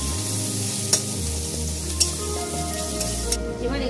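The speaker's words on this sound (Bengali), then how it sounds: "এবার মশলাটাকে ভালো করে কষিয়ে নেব।" Spiced masala of salt, turmeric and cumin powder frying and being stirred in a pan for a Bengali hilsa and eggplant curry: a steady close sizzle with a few sharp scraping clicks of the spoon, no voices.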